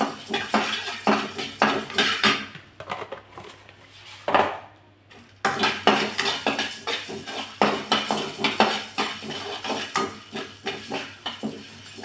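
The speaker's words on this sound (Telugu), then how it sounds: "నువ్వులు చిటపట్లు ఆడుతున్నాయి" Sesame seeds roasting in a pan, dense crackling and popping close by, mixed with busy scraping and clattering of a utensil against the metal, no voices.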